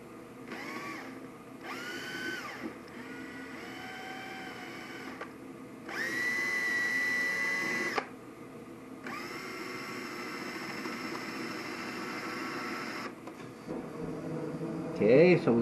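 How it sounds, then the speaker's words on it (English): A drill boring a quarter-inch hole through a violin, running in several bursts with a steady whining, humming tone between brief pauses, fairly close and loud throughout. "I'm going to try and drill that right in the center. I'm going to start with a 1/4 inch."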